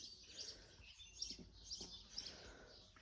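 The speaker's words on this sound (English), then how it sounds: "Birds are singing." Several birds chirp and tweet in repeated short bursts at sunrise outdoors in Galicia, moderately close, over a steady low background hum, with no talking.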